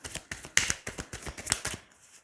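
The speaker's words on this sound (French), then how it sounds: "Allez, on va tirer 9 cartes." Tarot cards being shuffled up close: a run of quick, crisp riffling bursts with short pauses between them, ending with a softer rustle, with no talking.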